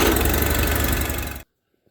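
A cold Onan engine runs at a loud, steady close-range chug for about a second and a half, then stops abruptly into silence.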